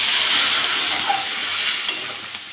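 Water poured onto hot, well-fried spice paste in a pan bursts into a loud, close rush of steam and hiss that slowly fades over a couple of seconds, with no voices.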